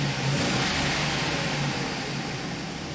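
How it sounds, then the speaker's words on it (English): Cold GMC Savanna van engine idling steadily with a smooth, continuous broadband whir and a low hum underneath, even in level throughout, no talking. "So as you can see, the engine is not misfiring right now. So the engine is fairly cold"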